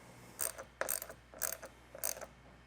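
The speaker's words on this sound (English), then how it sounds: "So we're going to tighten these down nice and snug." A ratchet tightening the feet of a roof rack on a Toyota 4Runner, heard as four quick bursts of clicking spaced about half a second apart, close and fairly quiet with no talking.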